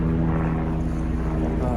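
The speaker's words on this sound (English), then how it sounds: "We get the helicopter, it's the air ambulance" Air ambulance helicopter flying back overhead in the Cornwall countryside, a steady low droning rotor and engine hum, fairly loud and constant, with a voice talking over it.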